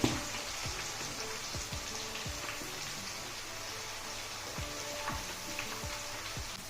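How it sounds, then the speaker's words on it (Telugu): Shallots fry in hot oil for an amla pickle tempering, a steady close sizzle and crackle with small pops scattered throughout, alone with no voices. "ఆవాలు ఎండుమిర్చి వేగిన తర్వాత ఇట్లా చిన్నులపాయలు వేసి వేగనిద్దాం"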